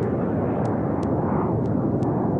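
An airliner carrying 81 passengers climbs to 23,000 feet, its engines a steady, loud broadband roar with a few faint high ticks on top.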